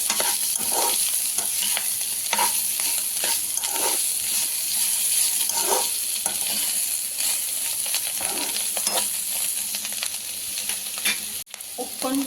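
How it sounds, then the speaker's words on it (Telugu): Bitter gourd fry with turmeric is stirred in a pan, with a continuous sizzling hiss and repeated scraping and clinking strokes of the spoon, steady and close for several seconds. "ఒక 1/2 స్పూన్ వేసుకొని ఒక్కసారి అన్నీ బాగా మిక్స్ చేసుకోవాలి"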